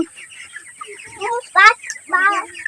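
Chickens cluck and squawk nearby in short, uneven bursts, with louder raspy calls standing out among softer chatter.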